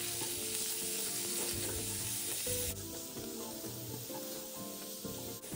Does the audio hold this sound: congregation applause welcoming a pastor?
no